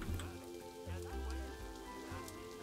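Rain falls in the zoo-building video game Planet Zoo, a soft, steady patter on surfaces heard faintly beneath tonal in-game music and ambience over a few seconds.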